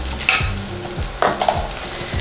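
Scampi cooking in a pan for risotto, with a steady close sizzle and bursts of stirring or scraping near the start and again past the midpoint, and no voices.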